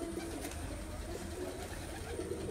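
Pigeons coo softly and steadily at an outdoor pigeon-flying competition, low murmuring calls layered over a faint, continuous background.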